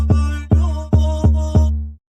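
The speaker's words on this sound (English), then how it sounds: "I'll put another 808 so it'll sound like this" Doubled 808 bass notes in a dark Jersey drill beat, five loud booming hits spaced about half a second apart, each decaying with a long sustained tail before cutting to silence.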